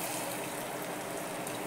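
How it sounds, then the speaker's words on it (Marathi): Hot water poured into a pot of simmering black-eyed pea and potato vegetable curry, giving a steady, even rushing hiss that runs unbroken throughout, with no voices. "गरम पाणी, हे गरम पाणी घालते"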